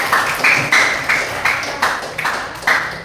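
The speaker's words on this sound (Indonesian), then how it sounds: "tepuk tangan buat teman-teman" Classmates clapping in a classroom, a few loud, near, rhythmic bursts of hands striking in quick repeated pulses, about eight beats in three seconds, with no talk.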